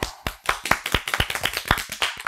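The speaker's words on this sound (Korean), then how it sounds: "자, 박수." Sharp, individual claps from a small group at a vocal masterclass, quick uneven rhythm of distinct close hand strikes over a couple of seconds.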